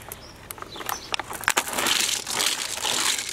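Water sloshes and rattles inside a plastic bottle holding marbles as it is shaken, a close, busy run of crinkling and splashing that grows steadier in the second half.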